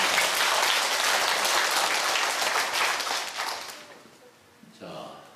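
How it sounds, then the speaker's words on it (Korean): A church congregation applauds the choir in a blessing, dense sustained clapping that fades out, followed by a brief voice. "한번 축복의 박수를 드립니다"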